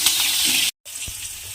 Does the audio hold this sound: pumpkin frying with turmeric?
yes